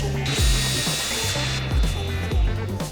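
A power drill boring holes through a template fixed to a wall, loud and close, with repeated rising whines and clicks as each hole is drilled in a steady rhythm.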